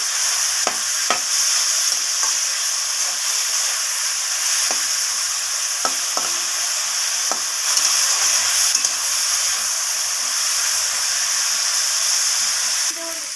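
Sliced capsicum stir-fries with carrots and beans in a pan, a steady close hiss of sizzling broken by scattered spatula clicks and scrapes, with no one speaking.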